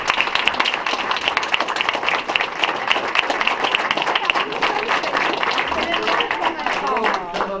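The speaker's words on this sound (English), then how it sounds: "let's give the 7th grade team a round of applause" A round of applause at a city council meeting for a 7th grade team, dense steady clapping from a room of people lasting several seconds, with some voices mixed in underneath.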